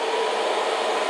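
A repaired Parlux 385 hair dryer runs steadily, blowing air with a loud, even motor whir and rushing airflow, alone and unbroken throughout.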